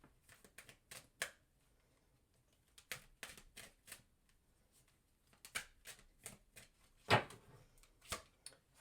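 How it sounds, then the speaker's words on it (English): Tarot cards being shuffled in quiet bursts of riffling and snapping, soft and close, with pauses between the flurries and one sharper slap near the end. "We're going to do 3 shuffles."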